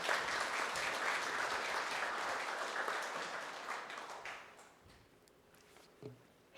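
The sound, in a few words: audience applause welcoming a speaker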